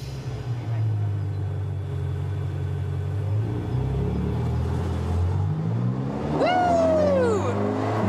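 A red Ferrari revs and accelerates hard, its engine note climbing through rising harmonic sweeps and then peaking in a sharp high whine, loud and close with a rumbling low end. People talk faintly over the engine.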